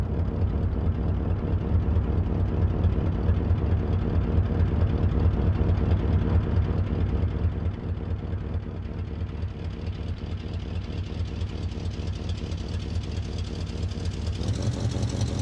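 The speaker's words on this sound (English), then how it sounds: "Can we hear it approaching? Yes, I think we can. We can hear the engine." Train engine in Workers & Resources: Soviet Republic, a steady low rumbling drone that holds level, shifts slightly midway and builds a little toward the end as it approaches.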